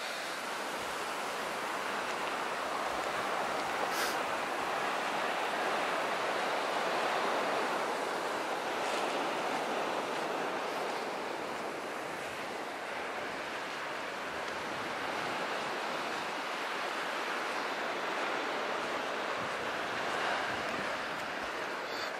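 Ocean surf washes steadily onto the beach at Inskip Point, a continuous broadband roar of breaking waves with gentle swells in intensity, fairly close and unbroken by voices.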